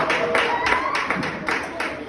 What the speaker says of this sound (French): Si on peut applaudir pour Jésus.